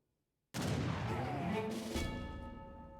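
A single heavy Papal Bombard cannon blast from an Age of Empires-style strategy game booms out after a brief silence and rings off slowly over about two and a half seconds, fairly faint overall.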